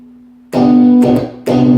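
A strummed guitar chord rings out three times, each strike bright and sustained with the fourth string muted, after a faint lingering tone.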